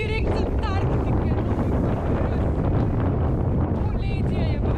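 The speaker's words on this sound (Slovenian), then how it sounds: "ta veter piha direkt z Antarktike" Strong wind blowing straight off the Southern Ocean from Antarctica at Slope Point, New Zealand's southernmost tip, roaring steadily and loudly across the microphone throughout with a few brief voices caught in the gusts.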